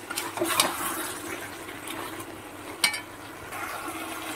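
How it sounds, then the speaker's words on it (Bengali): Fried chicken pakoras are stirred into a chili sauce in a pan: wet scraping and sloshing in uneven strokes, with a few sharper utensil knocks, close and without talk. "দেখুন ভালো করে মিশিয়ে নিচ্ছি চিকেনের সাথে সস সব কিছু"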